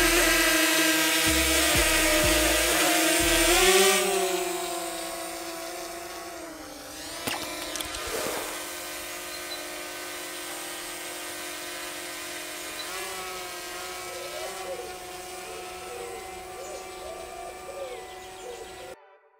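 DJI drone hovering and flying, a steady high-pitched propeller whine with shifting tones, loud and near at first and then settling into a fainter, continuous hum as it climbs.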